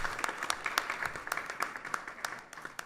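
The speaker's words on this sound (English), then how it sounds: "Please give them a round of applause" Worshippers at a Krishna temple Sunday service applaud, a moderate crowd of hand claps with distinct individual sharp claps standing out, fairly close, easing slightly toward the end.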